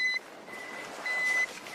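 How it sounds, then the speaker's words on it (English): An avalanche transceiver gives two clear, steady electronic beeps, each short and high-pitched with a gap between them, heard alone over faint background hiss. "They rely on an audible beep that generally gets louder the closer you get to a victim."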